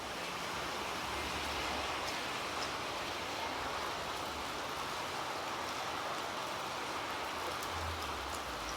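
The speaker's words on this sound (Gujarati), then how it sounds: "પહેલા તમને વરસાદ બતાવું જેવો પડે" Steady rain falls during a monsoon shower, a dense continuous hiss that stays even and loud throughout with no pauses.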